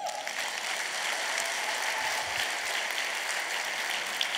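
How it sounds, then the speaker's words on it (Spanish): A congregation applauding in a church during a sermon by a pastor, a dense, sustained wash of clapping that holds at an even level throughout. "Era un aplauso al Señor."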